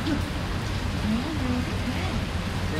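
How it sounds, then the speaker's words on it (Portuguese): Rain beginning to fall at a beach in Sergipe, a steady broadband hiss spread evenly across the whole stretch, with voices murmuring faintly beneath. "Pegando essa chuva, começa a chover aqui"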